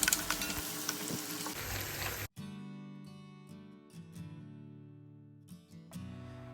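Green chilies, curry leaves, ginger and garlic fry in oil for a Kerala-style pickle, giving a loud dense sizzle that cuts off abruptly, followed by quieter clinks and tonal ringing.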